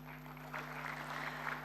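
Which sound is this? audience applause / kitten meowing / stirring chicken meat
audience applause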